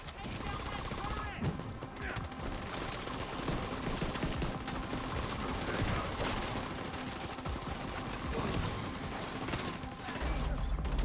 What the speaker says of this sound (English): 438K per bullet from the turret